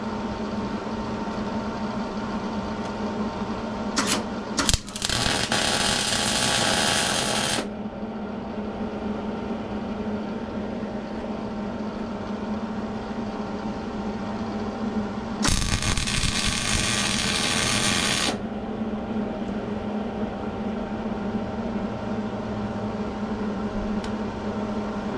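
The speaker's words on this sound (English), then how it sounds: "Weld it all in." Two bursts of arc welding crackle, roughly three and ten seconds long, tack and run welds on a Case 1845 skid steer bucket mount, loud over a steady low machine hum, with no voices.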